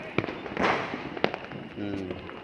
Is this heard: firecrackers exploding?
yes